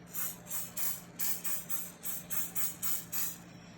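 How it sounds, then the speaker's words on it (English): Rapid bursts of aerosol spray, about ten short hisses in a quick steady rhythm, close by with nothing else around. "we're gonna spray them. With, what is that? with cooking spray."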